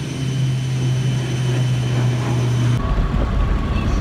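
An airplane heard near an airport gives a steady loud engine roar with a low droning hum that cuts off abruptly, leaving a broad rumble like traffic.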